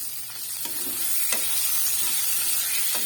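Half-fried fish heads sizzle steadily in a hot pan, a continuous close frying hiss with a few light scrapes of stirring and no talk.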